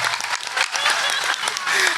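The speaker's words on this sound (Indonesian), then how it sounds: "Tepuk tangan buat panitia" A seated crowd at a Maulid Nabi religious gathering applauds the organising committee, with a short, dense burst of clapping mixed with voices and crowd murmur.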